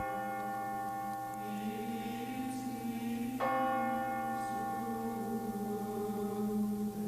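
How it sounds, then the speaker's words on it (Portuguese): A church bell tolls with a long ringing hum, a fresh strike sounding midway and resonating on as the tone slowly fades. "Dobraram os sinos"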